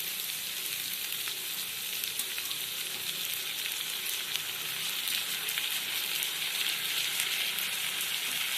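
Potatoes, onion and ginger frying in a pan, a steady bright sizzle crackling continuously throughout, fairly quiet and alone.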